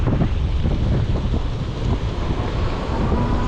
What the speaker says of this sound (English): Yeah, not heavy wind today, but it's windy.